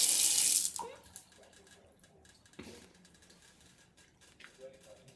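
A leaking tap and shower in a bathroom release a loud gush of running water that cuts off after a second, followed by quieter irregular drips and trickles, with a few faint background sounds.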